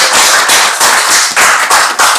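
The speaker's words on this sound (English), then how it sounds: "Round of applause for her," A game-show audience bursts into loud, dense applause, many hands clapping at once in a continuous crackling wash that pulses slightly in intensity and carries no talking.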